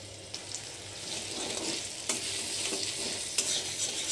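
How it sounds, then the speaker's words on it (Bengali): Spice paste of black cumin, chopped onion, tomato, dried chilli paste and turmeric being stirred and sautéed in a pan for a Bengali bata fish curry, with a soft continuous sizzle broken by occasional scraping stirs. "মশলাটা কষানো হয়ে গেছে"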